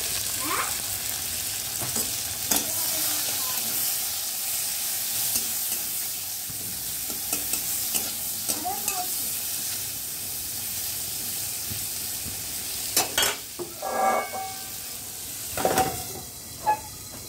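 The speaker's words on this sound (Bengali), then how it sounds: "দেখো করলাটা ভাজা হয়ে গেছে" Bitter gourd frying in a pan, a steady close hissing sizzle that grows busier near the end with clattering stirs and scrapes.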